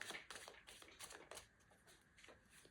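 Tarot cards being shuffled by hand, a close, quiet series of crisp riffling bursts and soft slaps in an irregular rhythm with no talking.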